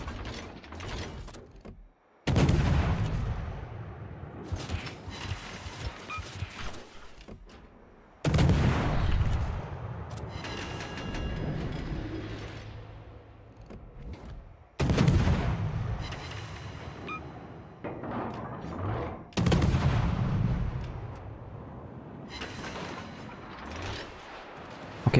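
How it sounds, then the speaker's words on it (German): Ship guns fire in a naval battle video game. Four loud booming salvos each start abruptly and trail off into long rumbling, mechanical rattling decays. "lieber mal blind in den Nebel schießen"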